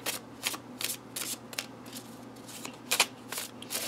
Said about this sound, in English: Trying to shuffle on a very small, the little end of the table,